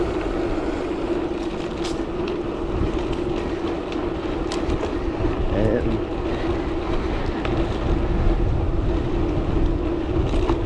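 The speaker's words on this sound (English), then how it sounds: "there's wind outside" Steady wind blows outdoors along a countryside route lined with standing stones and burial mounds, a constant rushing roar with gusty buffeting on the microphone that lasts throughout.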